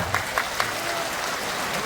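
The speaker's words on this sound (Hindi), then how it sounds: "जोरदार ताली बजाओ।" Crowd applause at a large religious gathering, a few sharp clap bursts at the start, then a steady dense wash of clapping that continues evenly to the end.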